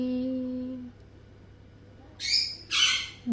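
A ring-necked parrot lets out two loud, harsh squawks in quick succession, close by, after a quieter stretch with a low tonal sound at the start.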